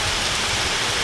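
Rain pours down at a bus station, a loud, dense, unbroken hiss filling the short stretch with no talk over it.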